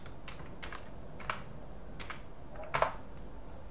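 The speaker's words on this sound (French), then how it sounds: "je tape Plan 9" Computer keyboard typing in short bursts of keystrokes, with a slightly louder cluster near the end, close and alone with no talk.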